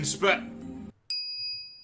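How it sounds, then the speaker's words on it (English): A single bright bell-like ding from the Phone Microwave gadget in the game Steins;Gate rings out after a burst of speech and a brief silence, its clear tone sustaining and slowly fading. "Ding. The phone wave, name subject to change, rings."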